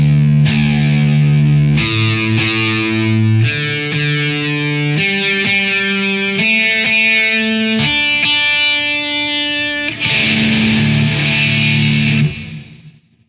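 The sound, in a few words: electric guitar playing a riff in altered tuning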